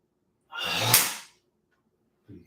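A single sharp, breathy inhale in a qigong class, loud and close, lasting under a second, with a faint breath beginning again at the very end.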